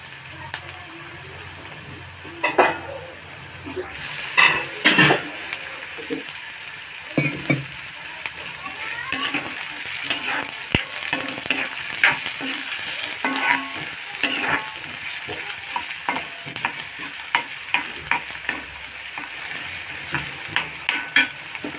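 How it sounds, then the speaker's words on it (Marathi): Onions sautéing in a kadhai until reddish, a steady close sizzle punctuated by frequent scraping and clinking of a spoon against the pan, with no talking. "चांगला कांदा परतून घ्यायचा लाल करून."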